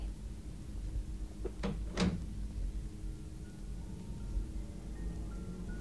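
A door closing as a radio drama sound effect, heard as a couple of quick knocks and a thud close by against a quiet, steady background hum, with no one talking.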